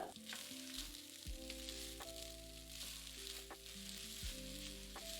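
Egg fried rice with chopped spring onion greens and salt being stir-fried in a pan, giving a faint, steady sizzle with a few soft scraping stirs over a low background hum; no voices.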